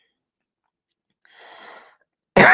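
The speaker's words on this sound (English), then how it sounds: "I have to cough." A single woman's cough from a real estate agent mid-conversation, a soft breathy burst followed by a sharp, loud close-up cough at the very end, with no talking.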